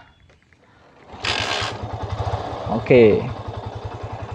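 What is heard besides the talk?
motorcycle engine kick-started and running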